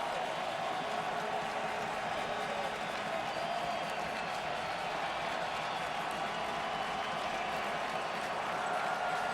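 A large baseball crowd at the Oakland Coliseum keeps up a sustained, loud roar throughout, a dense wash of cheering and noise with no pauses, during a 2012 ALDS playoff game.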